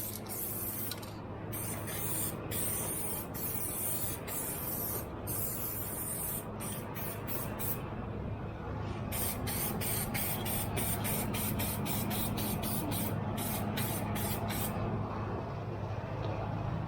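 Spray paint hisses in steady bursts with short breaks as the front end of a 1978 V8 hot rod Chevy Nova is coated, close and continuous over a low background hum.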